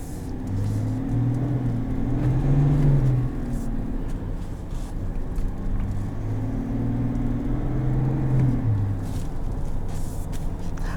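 A 2020 Chevrolet Silverado 1500 LTZ with the Duramax diesel engine driving, a low steady engine rumble and road whir from inside the cab that swells twice as the truck accelerates and shifts, with no talk.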